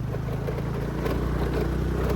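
A vehicle engine, likely a tractor, revs steadily under throttle with a low, continuous drone that swells slightly partway through, with no talking.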